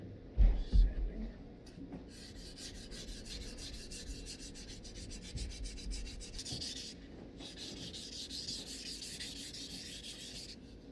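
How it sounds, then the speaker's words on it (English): Sanding the wooden handle of a hand axe by hand, a steady scratchy rubbing that goes on and on with short pauses, after a few knocks at the start. "Sanding."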